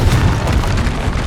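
A Confringo spell explosion in the game Hogwarts Legacy, heard as a loud, deep boom with a rumbling, noisy tail that fills the whole moment.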